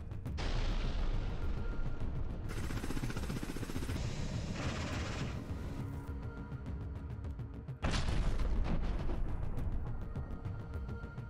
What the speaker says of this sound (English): Footage of the Russian airstrikes was captured by objective cameras.